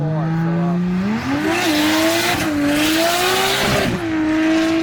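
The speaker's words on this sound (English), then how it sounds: "it's still accelerating while doing the power skid" A high-revving turbocharged car on drag radials roars steadily with tires squealing in a sustained power skid at Powercruise in Queensland, loud and close throughout.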